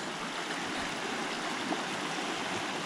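A trout river flows steadily with a continuous broadband rush of water, close and even, with no voices.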